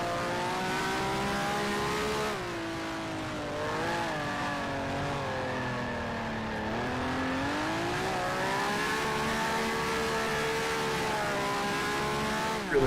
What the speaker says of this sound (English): Really revving it out there through the final corner.